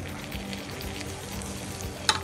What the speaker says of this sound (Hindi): मैदे को हम भूनेंगे इसमें बटर में।